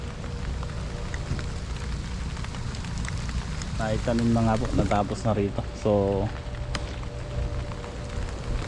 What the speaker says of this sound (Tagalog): sakto, umuulan.